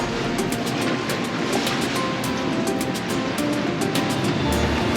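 Continuous roar of wind and big waves around a boat anchored in a storm with a west wind, a loud dense wash with rhythmic buffeting gusts and no voices.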